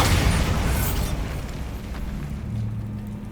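A Bombarda spell explosion from Hogwarts Legacy hits as a loud, broad boom with a burst at the start, then a rumbling roar and low debris noise that fades over a few seconds.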